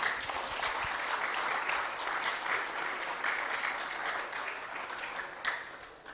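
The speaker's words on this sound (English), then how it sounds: "Can we give them all a big round of applause, please?" An audience at a sports awards ceremony applauds the boys' tennis players, sustained crowd clapping filling the hall at an even level before tapering off near the end.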